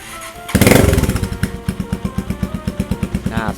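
A 2016 Stallion CT400 tracker-style motorcycle fires up with a loud burst, then settles into a close, steady thumping single-cylinder idle with regular exhaust pulses.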